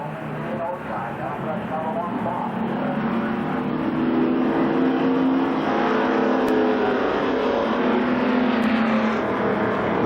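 Race cars run two wide through turns three and four at Columbus Motor Speedway in 1993, their engines a sustained, loud roar that swells as they pass, with an announcer talking over it.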